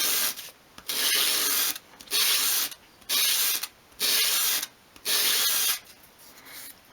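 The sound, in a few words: sanding a dolls house shelf piece on sandpaper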